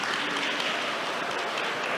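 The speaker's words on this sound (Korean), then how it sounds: "큰 박수로 맞이해 주시면 좋겠습니다." An audience at a conference main session applauds to welcome a speaker taking the stage, a steady, dense clapping that fills the room throughout without pause or voices.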